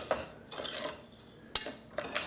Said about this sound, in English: And I stir that in there.